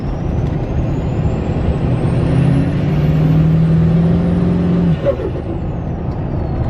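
A tuned Duramax diesel truck runs with a loud, steady drone and a rising turbo whistle, which cuts off sharply near the end before the engine settles.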